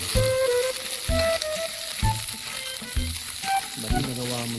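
Spring onion sizzles steadily in a hot pan for a banana heart and coconut milk dish, broken by regular scraping stirs roughly once a second, close and fairly loud with no talk.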